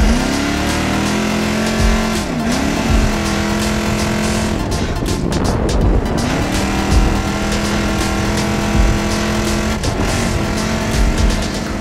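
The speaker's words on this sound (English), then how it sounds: "It's time to get in the race car, it's time to haul ass." Off-road race car at the King of the Hammers 2017 race, its engine revving hard with rising and falling pitch sweeps, close and loud, with brief dips between pulls and occasional clunks.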